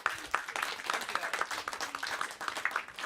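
An audience at a live children's show claps for a performer, a steady crowd applause heard at moderate distance, slightly muffled, with a few voices mixed faintly underneath.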